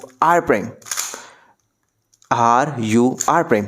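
Quick plastic clicks of a Rubik's cube being turned through an algorithm, a few sharp snaps scattered beneath a man's close speech, with a short silent pause in the middle.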